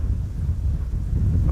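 Steady wind buffets the microphone at an outdoor aircraft spotting spot at Amsterdam Schiphol during rain showers, a continuous low rumbling roar with no pauses or talk.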